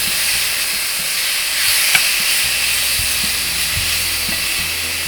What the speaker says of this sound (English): We're just kind of searing the outside nice and quickly.